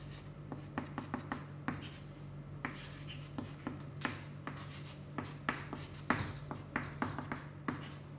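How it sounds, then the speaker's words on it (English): Chalk or pen writing by hand during an engineering lecture on irregular areas: a steady series of short scratchy strokes and taps, close and moderately quiet over a constant low electrical hum, with no talking. "Let me write that as it is."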